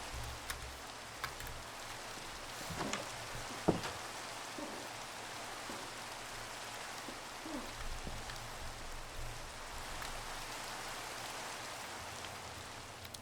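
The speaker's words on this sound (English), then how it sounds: "I can get rid of this rain." Rain in the video game Minecraft falls as a steady, soft hiss across the whole stretch, with a few faint taps and clicks scattered on top and no talking.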